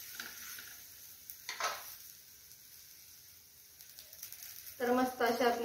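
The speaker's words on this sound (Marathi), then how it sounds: "आपण पलटून घेऊया" Dhapate thalipeeth sizzles softly on a pan after being flipped, with a scrape of the spatula early on and a brighter burst of frying crackle toward the end.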